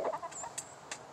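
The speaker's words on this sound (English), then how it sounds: "Torch, you are one heck of a rooster" A rooster crows in short bursts, fairly close, with a few brief higher calls in between.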